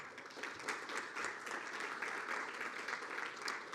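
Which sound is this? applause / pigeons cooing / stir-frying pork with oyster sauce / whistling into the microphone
applause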